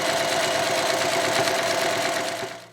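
A sewing machine stitches along the folded edge of a two-tone cotton shoulder bag, a steady close whirring run that holds for over two seconds and then winds down.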